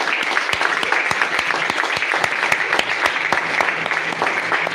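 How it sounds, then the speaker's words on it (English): Steady applause from an event audience greeting the second runner-up, a team from a radio outfit, dense overlapping claps with sharp individual hits filling the clip from start to finish, with faint voices beneath. "Please a round of applause for Echo Shine."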